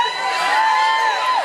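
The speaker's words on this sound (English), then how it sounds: "Why are you cheering?" Convention panel audience cheering: a loud crowd of whoops and high shouts, sustained briefly before trailing off.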